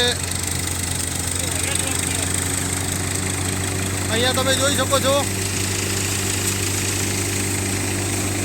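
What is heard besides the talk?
Farmtrac 45 tractor, 2017 model, engine running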